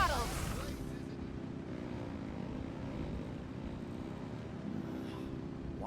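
Mavuika's vehicle in Genshin Impact at full throttle: a constant, droning engine roar that starts with a sharp surge and then holds steady and fairly loud throughout.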